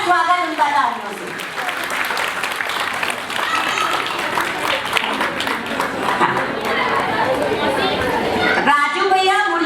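An audience at a family celebration in Delhi claps in sustained, loud applause that fills nearly the whole stretch, with crowd chatter mixed in, then breaks off abruptly just before the end.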